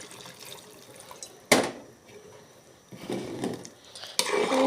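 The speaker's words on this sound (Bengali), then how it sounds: "গরম পানিটা দিয়ে দিলাম" Hot water poured into a pot of chicken and vegetable khichuri in short splashing bursts, with quieter trickles and drips in between, heard close and fairly faint.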